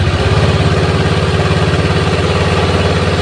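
A Honda Beat FI scooter engine runs close and loud with a steady throbbing pulse, a constant rev with no talk over it.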